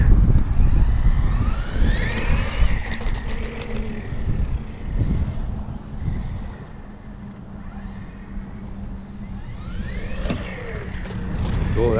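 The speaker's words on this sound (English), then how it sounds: "It's an RC car. This is the DEERC." A DEERC H16E RC car drives at night, its small electric motor whining in rising and falling pitch as it accelerates, close and fairly loud, with wheel and ground rumble underneath.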